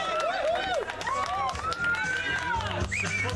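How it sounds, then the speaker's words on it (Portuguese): Partygoers at a neighborhood birthday celebration in Jardim São Carlos applaud and cheer for the honoree, dense clapping and shouts from a close crowd with voices rising over it. "aplausos para a nossa"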